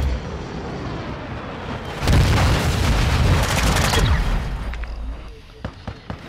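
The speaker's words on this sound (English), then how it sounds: "Throwing flash grenade!" A flash grenade goes off in Call of Duty: Modern Warfare II, a sudden loud blast that rings and fades over about two seconds amid game background noise, followed by a few sharp clicks.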